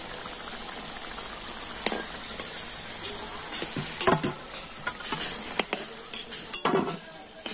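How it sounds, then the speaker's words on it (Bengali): Cauliflower vegetarian 'fish' pieces frying in a pan, with a steady sizzle under sharp clinks and scrapes of a utensil against the pan, close and moderately loud. "আর এইভাবে সমস্ত মাছগুলো আমি ভেজে নেব।"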